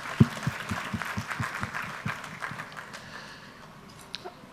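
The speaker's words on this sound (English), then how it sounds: "I would like everybody to give the big round of applause for all the team over here for the success." Audience at an education conclave applauding the organizing team, a scattered patter of claps with a few sharp nearby hits, loosening and fading over about four seconds.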